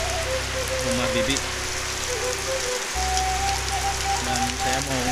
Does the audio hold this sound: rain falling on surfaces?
yes